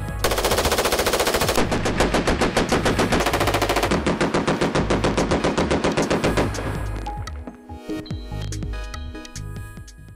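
A CZ 805 BREN assault rifle fired in sustained rapid automatic bursts at a live test range, loud and close, with a dense string of shots that breaks into shorter bursts and echoing tails near the end.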